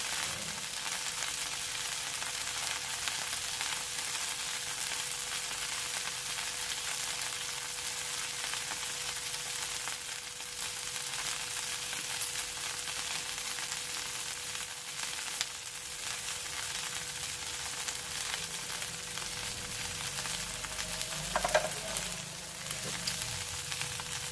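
Okra and potatoes frying in hot oil in a pan, a steady dense sizzle with crackly texture and a faint background hum, continuous and close with a brief stir near the end, no speech.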